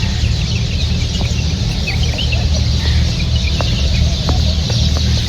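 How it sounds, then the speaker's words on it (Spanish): Chickens cluck and call continuously on a farm at dawn in Abu Dhabi, close and fairly loud, with brief higher chirps scattered over a steady low background hum. "¿Escuchan eso? Son aves."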